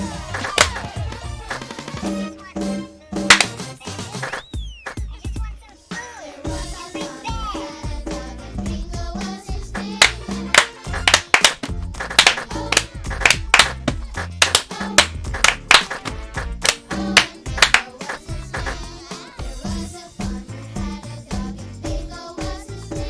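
Rhythmic clapping in the Donkey Konga video game, sharp repeated claps mixed with loud bongo-style hits and game music, busy and continuous throughout.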